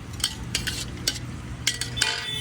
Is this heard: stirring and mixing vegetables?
yes